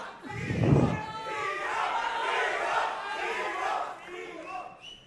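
An excited crowd at a live film-star event roars and cheers in a dense, sustained wall of shouting voices, swelling early and then holding loud before easing near the end.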